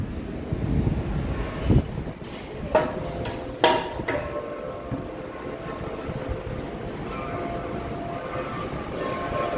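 Typhoon Uwan's wind keeps blowing hard in San Juan, a steady low rushing broken by a few sharp knocks and clattering bangs early on, then settling into a continuous moderate roar.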